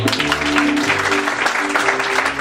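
Crowd applause fills a comedy improv theater, a dense steady clatter of many hands clapping, with some voices and chatter mixed in underneath.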